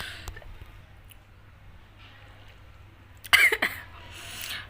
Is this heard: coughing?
yes